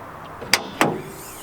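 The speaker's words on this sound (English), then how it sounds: "let me just pop the hood" The hood of a 1984 Porsche 944 popped open: two sharp, close mechanical clicks about a quarter second apart, the second a slightly heavier clunk with a short ring. There is no talking.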